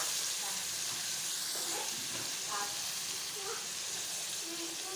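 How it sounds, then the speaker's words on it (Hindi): Ginger and garlic sizzling in a pan with lightly browned onions for a chicken chana masala, a constant broad hiss of frying throughout, steady and close with faint background sounds. "अदरक लहसुन ऐड करेंगे इसमें।"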